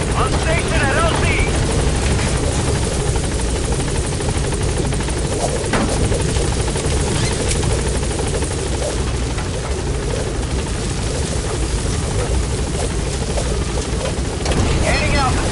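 Helicopter arriving at a landing zone in Metal Gear Solid V: The Phantom Pain, a loud constant rotor roar with wind-like rumble throughout, with a radio voice speaking over it.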